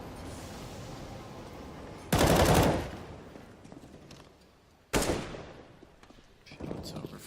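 Gunfire in CS:GO on the Overpass map during a FaZe versus SK match, with two sharp bursts of shots standing out over a steady background of game noise and commentary, followed by a smaller rattle near the end.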